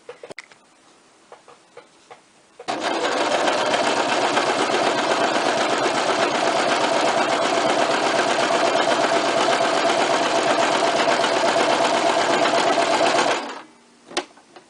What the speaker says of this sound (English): So if I just sew this just now, having picked a seam allowance on my needle plate to stick to